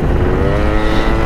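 Modified stock-looking scooter engine fitted with a 70 cc Motor Force kit, Motor Force variator and pulley, running steadily and loudly up close with a continuous buzzing drone and no talk.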